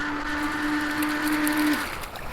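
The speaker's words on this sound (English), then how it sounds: "Come on back to me, boat." An HJ806 RC speedboat, a 35 km/h toy boat, runs its electric motor with a steady high whine on the water that drops off abruptly near the end.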